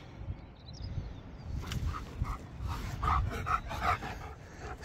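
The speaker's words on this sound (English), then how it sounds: "Crazy dog." A dog panting rapidly and rhythmically close by beside a caravan, with soft breathy puffs over faint outdoor background noise.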